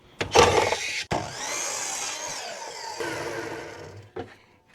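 A miter saw set to 30 degrees rips through a thin pallet board: a sharp spin-up, then a sustained whining cut for about three seconds before the blade winds down, loud and close.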